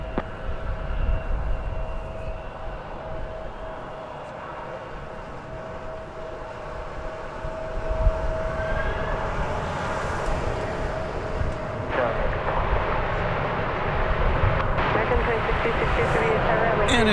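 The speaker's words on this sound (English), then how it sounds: "But a United Airbus A320 touching down 36 right, line up from Denver." A United Airbus A320 touches down on runway 36 right at DFW Airport, its engine rumble rising into a louder broad roar with a faint steady whine, under a commentator's voice.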